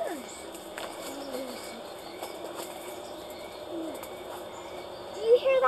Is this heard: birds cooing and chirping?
yes